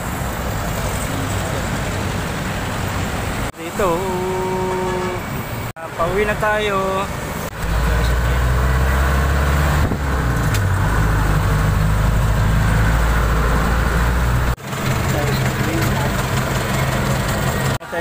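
A jeepney's engine idles and rumbles through traffic during a rainy ride, with road noise and passing vehicles, while people talk over it.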